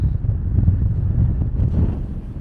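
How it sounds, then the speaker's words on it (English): Strong wind on Dartmoor buffets the microphone with a heavy, low rumbling roar that gusts continuously, loud and close, with no voices. "it's very, very windy up here"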